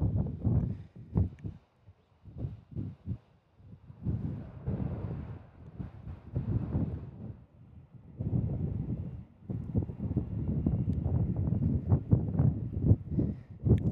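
Gusty wind at Kansas City International Airport buffets the microphone in uneven rumbling bursts, loud and close, swelling and easing without a steady rhythm.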